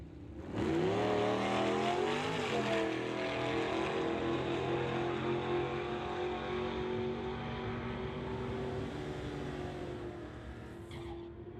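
A 1956 Chevy and a 56 delivery launch side by side down a drag strip at an old-time drag race, with loud sustained engine roar and rising revs that fade slightly toward the end.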